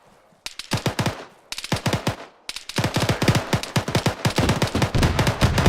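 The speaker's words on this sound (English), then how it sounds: "that's an auto cannon on BCR 80 Alpha" A BTR-80A's autocannon fires in ArmA 3, loud rapid bursts of heavy shots in several strings separated by short pauses, with sustained fire toward the end.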